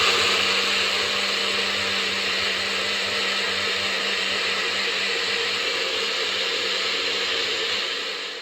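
A blender whirs loudly and steadily while blending a vegan cream mixture, a constant close motor roar with a dense, even whine that holds for the full stretch and eases slightly at the end.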